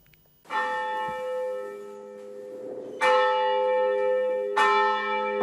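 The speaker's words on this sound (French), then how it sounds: "Son de cloche à la paroisse Notre-Dame du Congo." Church bell rung at Notre-Dame du Congo parish, three loud resonant strokes spaced a couple of seconds apart, each ringing out with a long humming decay.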